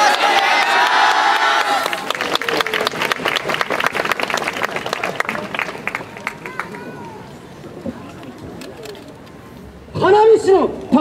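Crowd cheering at a yosakoi dance festival performance, loud and dense at first, then thinning out as an amplified voice speaks over the fading crowd noise, with another burst of voice near the end.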